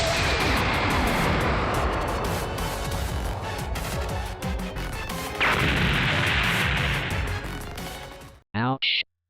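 A barrage of energy-blast explosions from a fictional attack in an animated action episode, dense crashing booms sustained loudly for several seconds, then a brief cut of silence and two short bursts at the end.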